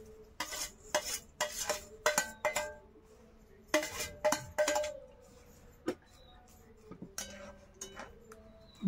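Dry vermicelli tipped into a pot of boiling water on a home stove for breakfast, heard as a series of sharp clinks, rattles and stirring knocks against the metal pot, in short bursts with pauses between.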